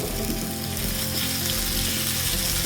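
Sardines (matthi) fry in hot oil on a tawa with a loud, dense, continuous sizzle and crackle that runs close-up and unbroken, with no voices over it.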